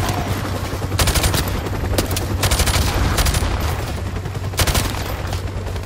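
Rapid hip-fired gunfire in Call of Duty Modern Warfare Remastered, with repeated loud automatic bursts punctuating a steady low rumble and no talking.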